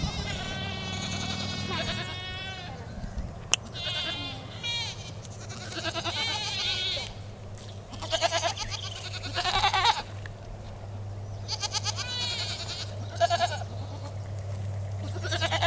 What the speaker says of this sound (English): That's why all the goats were yelling.